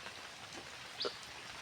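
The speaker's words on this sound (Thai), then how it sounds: "เร็วฝนมันตก" Rain falling outdoors, a faint, soft steady patter spread evenly throughout, with one brief small knock or splash partway through and no speech.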